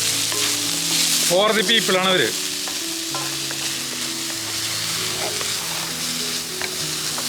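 Chopped garlic and green chillies sauté in a pan with a steady, loud, close sizzle throughout, while a voice speaks briefly near the start.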